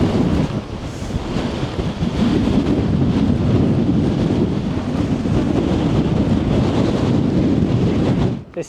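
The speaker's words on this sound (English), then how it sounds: "Here's the wind again." Strong wind blowing across a hilltop in the Lake District on a wild camping trip, a loud, steady roar buffeting the microphone for several seconds before cutting off abruptly, with no talking.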